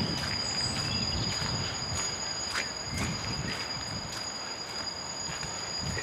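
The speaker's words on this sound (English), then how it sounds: "We're not here to film trains, John." A train rumbles past nearby with steady rolling noise, occasional clanks and a high metallic whine from the wheels, with faint insect chirps in the background, on a countryside walk between Eastleigh and Shawford.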